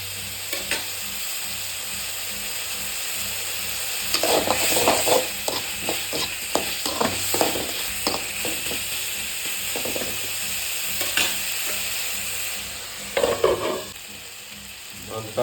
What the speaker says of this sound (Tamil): போட்டு நல்லா எண்ணெயில் போட்டு வதக்கி அடிக்கும்.